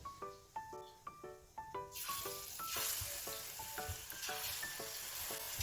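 Small bhaji fritters drop one after another into hot oil, giving a loud, continuous sizzle and crackle that builds up after a series of tapping and clinking sounds at the start, with no talking.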